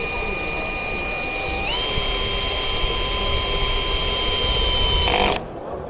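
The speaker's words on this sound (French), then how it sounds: "et on va visser" Power screwdriver driving a screw into an expanding wall anchor holding a washer standing in for a small fitting, torque set around 10: a steady high-pitched whine that steps up in pitch partway, runs continuously for about five seconds, then cuts off abruptly.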